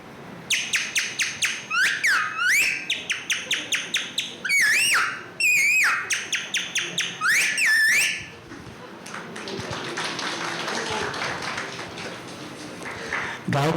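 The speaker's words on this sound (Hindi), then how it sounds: "तोते की आवाज" Parrot calls ring out as rapid bursts of shrill, rising squawks and chirps, loud and close for several seconds, then give way to a softer, noisy rustle.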